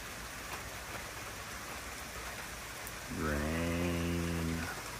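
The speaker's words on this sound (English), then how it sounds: "Rain." Steady rain falls on a surface as a continuous hiss throughout, with a voice speaking over it in the last couple of seconds.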